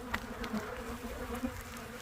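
A dense swarm of agitated honeybees buzzes steadily up close in a bee yard, the drone rising and falling as individual insects pass near.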